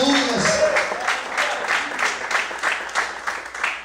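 Congregation applauding during a church service, a dense burst of clapping that swells in repeated waves for several seconds with no speech over it.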